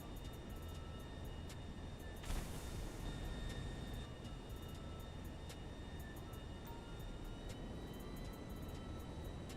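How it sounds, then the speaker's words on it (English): A large airplane's engine drones steadily in GTA Online, a continuous broad rumble with faint sustained tonal whines and a brief burst near the start, no talking. "This is a massive plane"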